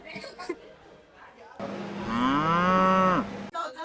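A cow on a farm in Kundasang lets out one long, loud, drawn-out moo near the microphone, bracketed by brief talk before and after.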